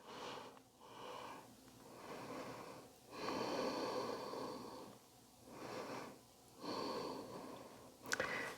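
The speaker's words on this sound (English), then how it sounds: "We're going to breathe here." Slow, deep breaths drawn and released during a core exercise at the wall, each inhale and exhale lasting a few seconds in a steady rhythm, close and fairly soft with a slight wheezy hiss, with no talking.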